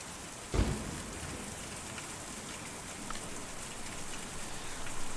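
Steady, dense rain hisses down in the video game Kentucky Route Zero, with one sharp thump near the start and no voices.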